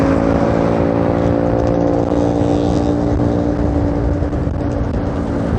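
A Honda Vario 125 (2013) scooter engine with an oversized bore runs at a steady idle, close up and loud, with a constant buzzing hum throughout and no voices.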